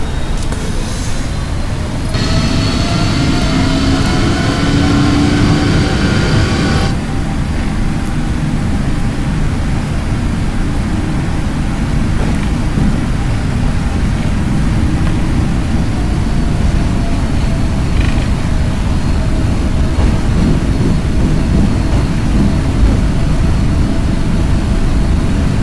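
Jet engines of a PMDG 777 in the Prepar3D flight simulator spooling up for a takeoff roll, a loud continuous roar with a rising tonal whine that stays steady for the whole stretch.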